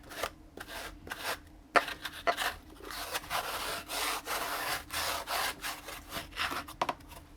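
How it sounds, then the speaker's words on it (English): A squeegee presses a liner's edges down onto a motorcycle saddlebag lid, making repeated close rubbing, squeaky scraping strokes with short pauses between passes, and no talking. "you go ahead and squeegee in your edges"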